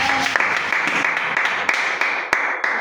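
A church congregation clapping and applauding in a sustained, fairly loud burst of many hands, with a few sharper claps standing out and no clear voices on top.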